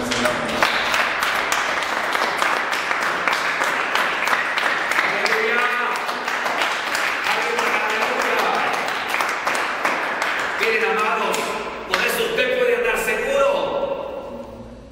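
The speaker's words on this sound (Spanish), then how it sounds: "Démosle palmas al Señor." A congregation in a Colombian church claps steadily and continuously, a dense rapid patter of many hands layered with voices throughout.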